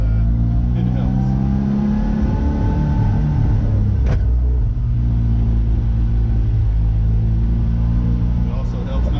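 A 1973 Fiat 500R with about 60,000 original kilometers and a non-synchro first gear drives along, its engine a steady close rumble that shifts pitch as gears change, with a voice talking over it.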